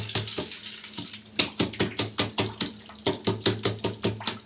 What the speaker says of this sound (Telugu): ఓన్లీ ఇట్లా పోసి కలుపుతా ఉండాలి.